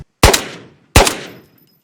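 Two loud, close rifle shots from the VR game Ghosts of Tabor, sharp cracks about three quarters of a second apart, each trailing off in a short echoing decay.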